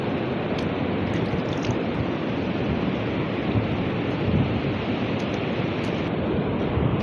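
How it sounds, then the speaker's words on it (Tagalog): Big, whitecapped sea waves churning in stormy weather with distant thunder, a dense, continuous roar of surf and wind close to the microphone throughout, with no one talking. "Laki ng alon."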